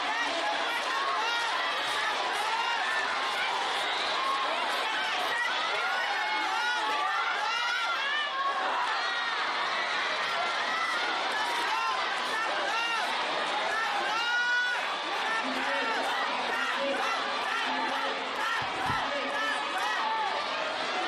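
Spectators at a FIBA U18 African Women's Championship quarterfinal basketball game between Tanzania and Madagascar fill the arena with a loud, continuous roar of cheering and chatter that holds steady throughout.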